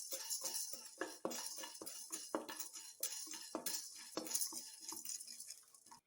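Dry roasting mudakathan leaves in a pan with no oil, a spatula scraping and clinking against the metal in quick irregular strokes, close and clear with no talking.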